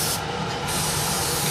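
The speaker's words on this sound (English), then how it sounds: "I'm going to carry on spraying this" Airbrush or spray can hissing as paint goes onto a 1/48 Airfix Canberra model kit, a steady, close, continuous spray with no talking.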